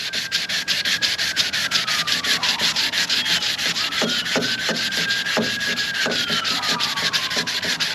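Steady back-and-forth rubbing of a sanding block wet sanding cracked gelcoat on a boat, continuous and close, with a faint siren wailing in the background and no talk.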